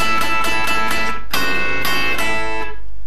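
Electric guitar playing a rock and roll lick, with quick repeated picked notes in a steady rhythm, then a short break and a ringing fretted double-stop that fades out. Close and loud, no talking.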